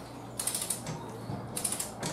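A Triumph Spitfire engine is turned over by a bar on the crank pulley, giving quiet mechanical clicks and creaks in two slow rounds, close by.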